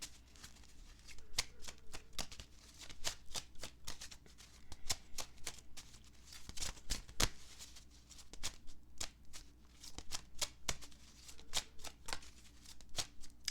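A deck of tarot cards being shuffled by hand, with a steady run of quick, close riffling flutters and soft slaps repeating throughout, no voices.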